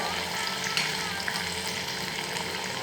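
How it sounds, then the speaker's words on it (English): Chicken pieces frying in a pan for a Goan cafreal dish, a continuous loud sizzle and crackle with faint stirring scrapes, no voices. "Frying the chicken for around 5 minutes till it gets golden brown all over"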